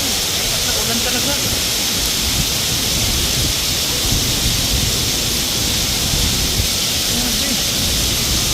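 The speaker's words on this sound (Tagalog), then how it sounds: "Biglang bumagsak ng ulan." Sudden heavy rain pours down outdoors near a train, a loud, constant hiss that fills the whole space, with a voice talking faintly beneath it.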